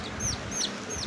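Colored chicks cheeping close by, three short high chirps in quick succession over faint background noise.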